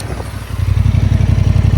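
A Honda Hornet 750 motorcycle engine catches and settles into a loud, close, throbbing idle with an even rapid pulse.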